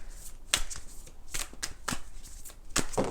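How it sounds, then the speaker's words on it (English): Tarot cards being shuffled close up: several quick riffling bursts separated by short pauses, crisp and papery, with no talking. "Let's do 3 major shuffles."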